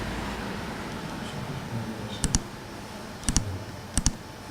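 Keys tapping on a computer keyboard at a Mac, heard as three close pairs of sharp clicks spaced about a second apart over a steady hiss of background noise, with no voices.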